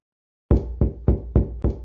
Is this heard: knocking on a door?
yes